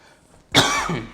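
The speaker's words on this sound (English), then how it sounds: "I have to cough." A single sharp cough bursts out close by after a brief quiet moment, trailing off into a rough throaty rasp.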